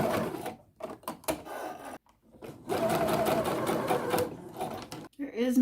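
A sewing machine stitches homemade fabric bias strips together for a flounced dress, running in several loud bursts separated by short pauses, with a steady mechanical whir during the longer run.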